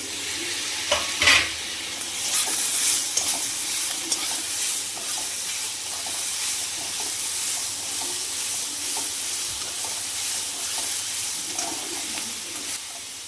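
Onion and tomato fry together in a pan for paneer masala. A dense, loud sizzle continues throughout, with repeated stirring scrapes and clatters, strongest in a few bursts near the start.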